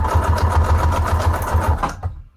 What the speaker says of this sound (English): So I'm going to stitch it right here, long ways.